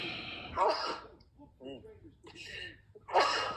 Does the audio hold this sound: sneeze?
yes